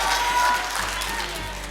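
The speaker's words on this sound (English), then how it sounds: "Give Alberlardo a big round of applause" An audience applauds a speaker giving a testimony, a brief, even wash of many hands clapping at moderate loudness.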